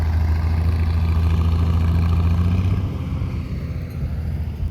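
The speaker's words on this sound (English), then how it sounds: "Yeah, that's a good sounding tractor right there." A deep, steady engine rumble from a running vintage tractor at a plow day, loud and close, easing slightly partway through.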